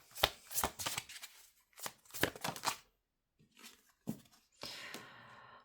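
Tarot cards being cut and shuffled close up, a series of quick riffling, flicking bursts separated by short silences, ending in a longer soft rustling shuffle; quiet and intimate.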